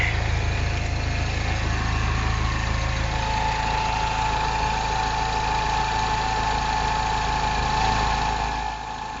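A Mini Cooper S, R56 generation, idles steadily up close in an engine bay, a constant low mechanical hum with a faint whine running through it, the level dipping slightly at the very end.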